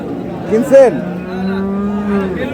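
A dairy cow at the Ambari cattle market gives one loud, close moo, rising and then drawn out, over a quiet market background.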